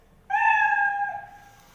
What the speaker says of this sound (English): this way the sprite will create a sound of meow